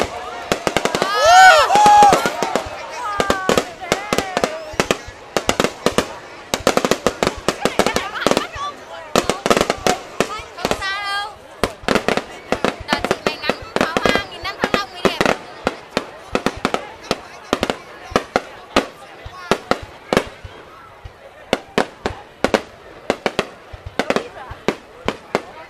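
Fireworks shells are launched and burst in rapid, uneven volleys of loud sharp bangs and crackles, dense at first and then thinning into spaced pops, with people talking and exclaiming among them.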